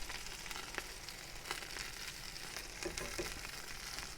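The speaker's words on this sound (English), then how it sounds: "Starting to sizzle up as they're losing a bit of the fat." Sausages sizzle and crackle steadily in a frying pan as their fat renders, a continuous close hiss with occasional sharper pops, no voices.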